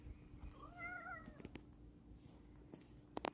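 A domestic cat gives a clear rising-falling meow, followed by a quieter stretch with light rustles and a couple of sharp bursts near the end.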